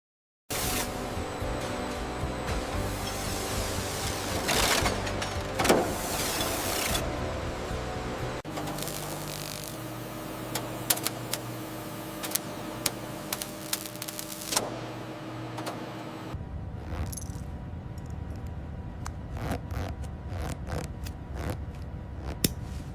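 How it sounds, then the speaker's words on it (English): Foam padding and reinforcement panels for school bags are cut in a bag factory, giving steady machine hum with repeated sharp ticks and clicks of cutting over about twenty seconds. "Cut foam padding and reinforcement panels."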